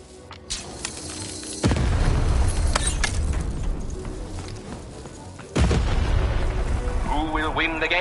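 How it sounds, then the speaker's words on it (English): Deep booming cannon blasts from the video game Lost in Random hit at two points, each followed by a sustained roar and rumble, with game-like chirping tones near the end. "Shoot the button to fire the cannon."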